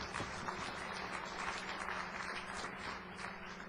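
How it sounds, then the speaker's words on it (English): A lecture audience gives muted applause, a low, steady patter of scattered clapping at moderate distance, continuous for a few seconds with no speech over it. "Now I hear muted applause"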